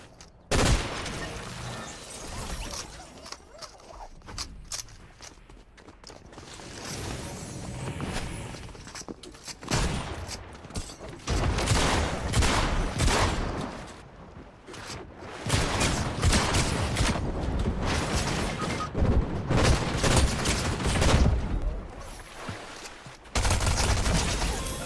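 Video game gunfire in repeated bursts of rapid shots, dense and crackling, alternating with quieter stretches and a few isolated pops, loud and close throughout.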